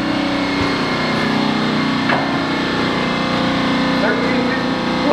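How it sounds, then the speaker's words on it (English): An air compressor runs in a machine shop beside a tool room lathe, giving a loud, steady droning hum that barely changes throughout, with brief voices over it. "Air compressor."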